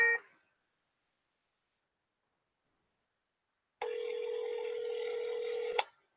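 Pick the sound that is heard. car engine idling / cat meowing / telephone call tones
telephone call tones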